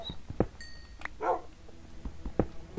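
Several dogs in the Minecraft video game bark and yip in short, sharp bursts, a handful of separate barks spaced across a few seconds, fairly close and without talk.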